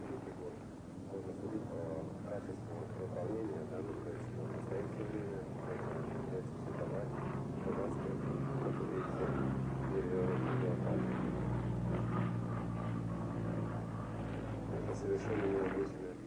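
A Yak-55 aerobatic propeller plane drones and roars overhead, its engine pitch rising and wavering as it manoeuvres, mixed with wind buffeting, and a voice talks over it.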